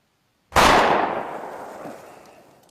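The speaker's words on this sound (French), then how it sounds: "C'était quoi, ces coups de feu?" A single sharp, loud bang rings out and decays slowly over a couple of seconds, echoing like a distant gunshot.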